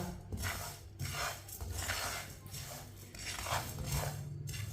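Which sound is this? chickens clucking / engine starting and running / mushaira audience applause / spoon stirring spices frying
spoon stirring spices frying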